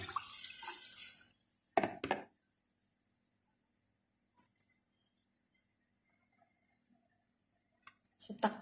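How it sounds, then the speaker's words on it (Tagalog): Water pours into a cooking pot of rice for chicken congee in a brief gushing splash at the start, followed by near silence broken by a few faint clicks and small clatters. "Lagay lang natin yung tubig."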